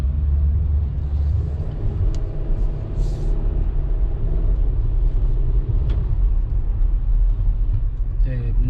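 A warmed-up 2016 SsangYong Tivoli VX engine idles with a steady, loud, low rumble that holds evenly throughout, with a few faint clicks and ticks over it.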